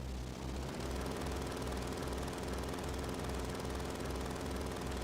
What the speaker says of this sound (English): And that is a helicopter with a sidecar.